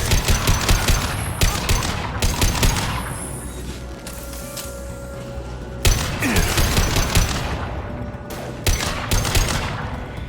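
Rapid automatic gunfire bursts from the video game Mass Effect 2, loud and sustained with brief pauses and a few heavier booms, no talk over it.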